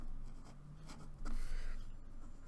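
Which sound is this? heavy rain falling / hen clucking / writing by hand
writing by hand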